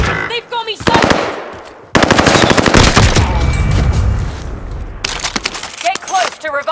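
A newly picked-up weapon fires in a shooter video game: loud rattling bursts of automatic gunfire with sharp cracks, separated by brief pauses, while game voices speak around the shots.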